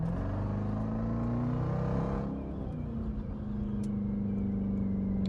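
A Widebody Jeep Grand Cherokee Trackhawk whines steadily while driving, a loud sustained engine and supercharger drone that drops in pitch as the vehicle abruptly slows, heard alone from inside the cabin.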